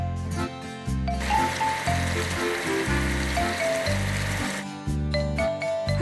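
Water sprays over a cartoon toy pollinating machine as a steady hissing wash for several seconds, set over bright background music, with the music alone before and after.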